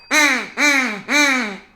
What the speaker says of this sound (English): Flying overhead ducks.